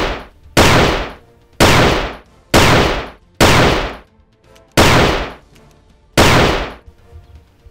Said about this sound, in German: Der nächste Schuss und Feuer!